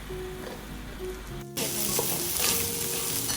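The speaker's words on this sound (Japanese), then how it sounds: "Mix well with a spatula." A spatula stirs rice frying in a pan for Japanese omurice, giving a loud, continuous close sizzle with scraping stir sounds. A brief cut in the hiss comes partway through, and faint tonal sounds run underneath.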